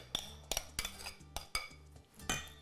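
A utensil stirs a flour mixture for a lemon ricotta cake in a bowl, giving about six sharp clinking strikes against the side in an uneven rhythm, close and fairly quiet, with no talking.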